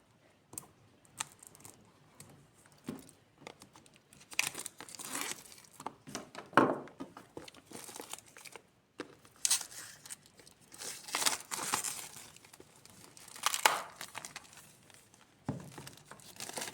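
A Samsung A06 5G phone box, a printed paper box, is opened with crinkling, tearing and tapping sounds in quick, irregular bursts from close by, with short quiet gaps between.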